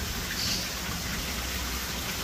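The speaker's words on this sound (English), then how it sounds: "Also watching this waterfall here." A small waterfall pours into an outdoor cichlid pond, giving a steady, hissing splash that stays even and close for the whole moment, with no voices.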